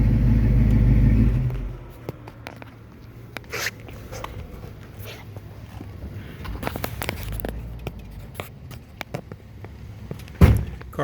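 A 1967 Mustang Fastback S-code engine runs loud and low for under two seconds, then cuts off abruptly, leaving quiet ambience with scattered faint clicks and a brief thump near the end.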